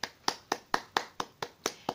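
Eight sharp hand claps land in a steady, even rhythm, each one crisp and close, with only quiet room between them.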